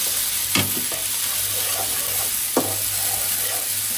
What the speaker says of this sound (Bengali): পেঁয়াজের সাথে আটা দিয়ে দিলাম, পেঁয়াজটা আমার ভাজা হয়ে গেছে তাই।